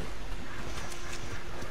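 Horse hooves clip-clopping in a video game, a quick, steady rhythm of light hoof falls over a constant background bed, fairly close and moderately loud with no talking.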